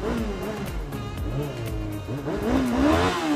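Yamaha R6 sport bike on a test ride, its engine revving up and down through gear changes with rising and falling pitch, growing louder toward the end.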